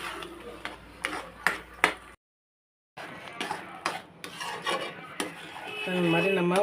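Onion, garlic and chilli thokku stirred in a pan, with a spoon rasping and scraping in short, uneven strokes, a brief silent break, then more scraping joined by a steady tonal hum near the end.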